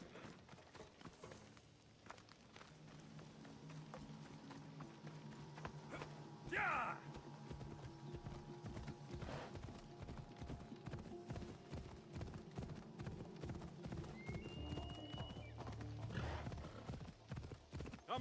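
Horse hooves clip-clopping at a steady walking rhythm in Assassin's Creed Odyssey, fairly faint, with a brief whinny and snorting partway through and some speech in the background.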